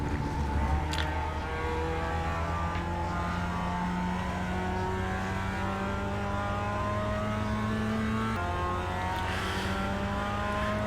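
Race car engines in the iRacing video game drone continuously and loudly, their pitch climbing and dropping through gear shifts with several cars close together, and no talking.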